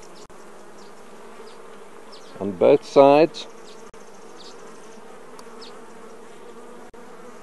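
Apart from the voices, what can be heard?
honey bees buzzing on comb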